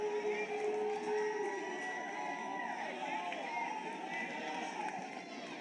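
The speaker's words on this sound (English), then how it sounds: "it is a noisy crowd that has stuck around for this late night finale" Noisy crowd at an Oklahoma vs Baylor college baseball game, a steady dense murmur of cheering and chatter filling the late-night ballpark, constant and fairly loud throughout with a sustained whistle-like tone early on.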